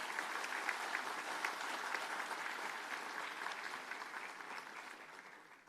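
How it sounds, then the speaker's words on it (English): An audience applauds senior advocate Harish Salve at a lecture, a full, even round of clapping that slowly tapers off toward the end. "A huge round of applause for him."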